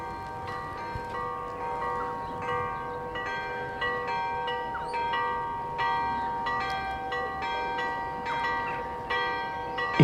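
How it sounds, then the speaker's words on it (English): Church bells in San Gimignano, Tuscany ring steadily and repeatedly in the distance, their overlapping tones sustained over a low background hum. "Just as the church bells start ringing."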